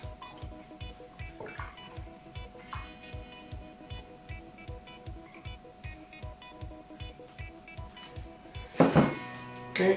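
Coffee liqueur trickles and drips steadily through a coffee filter into a container, with a regular pattern of soft splashes and a brief clink of glass near the end.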